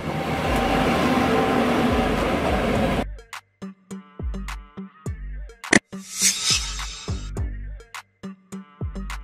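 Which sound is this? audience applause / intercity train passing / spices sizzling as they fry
intercity train passing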